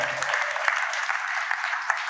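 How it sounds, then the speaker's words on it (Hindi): An audience at a community gathering breaks into applause, a dense, even patter of many hands clapping continuously from nearby. "एक बार जोरदार तालियां इन लोगों के लिए हो जाए"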